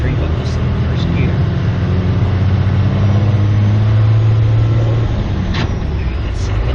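A 1996 12-valve Cummins diesel truck with 314,000 miles, towing a 37-foot camper, crawls uphill in first gear, its engine holding a loud, steady low drone close by that strains slightly higher for a few seconds before settling.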